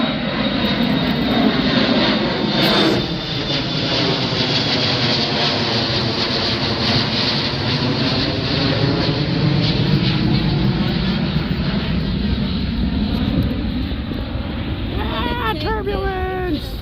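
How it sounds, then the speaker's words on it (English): A jet airliner roars loudly and continuously as it takes off from an airport runway, a broad sweeping engine rush with shifting tones, heard nearby from inside a car. "See, they launch the airplanes from here."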